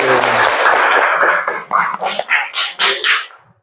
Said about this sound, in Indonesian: terima kasih untuk kelompok 1, tepuk tangan dulu